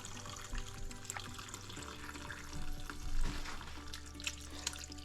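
Hot rendered beef fat poured slowly from a pot into a glass measuring cup, giving a steady liquid trickle and sizzle with faint splashes, fairly quiet and continuous.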